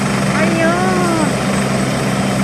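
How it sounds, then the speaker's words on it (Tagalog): An army helicopter flies overhead at a seaside, its steady rotor and engine drone loud throughout, with a voice briefly heard over it. "Nakakita ako ng tunay na army helicopter."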